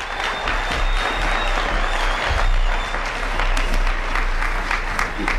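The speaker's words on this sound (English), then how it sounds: "Give them a hand." An audience applauds as the gospel group the Dixie Hummingbirds is introduced, many hands clapping steadily with a low hum underneath and a few louder individual claps standing out.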